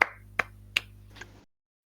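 Three sharp, evenly spaced claps ring out over a low steady hum, followed by a softer fourth sound before falling silent.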